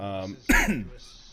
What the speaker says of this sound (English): yes, they coughed.